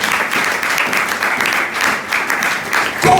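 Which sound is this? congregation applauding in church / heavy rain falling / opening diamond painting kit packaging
congregation applauding in church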